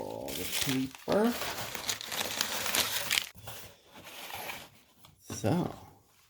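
Packing paper crinkles and rustles up close as a box of magnetic balls is unwrapped, coming in bursts of crumpling between short pauses, with brief voices in between.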